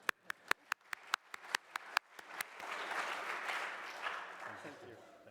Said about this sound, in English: So he will get second applause to be able to transmit it to real winner